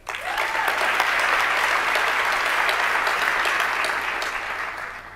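An audience at a Columbus City Schools State of the District event applauds, a dense wash of clapping that swells quickly, holds steady and then tapers near the end.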